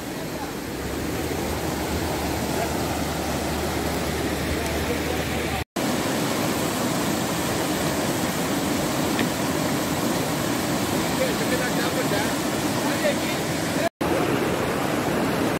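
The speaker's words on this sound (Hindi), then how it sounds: "पानी का शोर बहुत ज़्यादा" Loud, steady roar of rushing water at Blue Water Park, a dense broadband wash filling the scene without letup, interrupted only by two brief dropouts.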